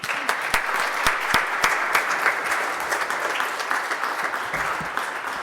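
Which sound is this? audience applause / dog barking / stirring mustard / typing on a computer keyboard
audience applause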